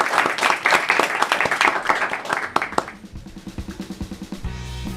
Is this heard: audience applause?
yes